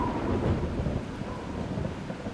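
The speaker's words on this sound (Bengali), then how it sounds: "তারপর দেখতে দেখতে ভয়ঙ্কর ঝড় বৃষ্টি শুরু হয়।" Thunderstorm sound effect with heavy rain at night; a dense, continuous wash of rain under low rumbling thunder, loud and steady without voices.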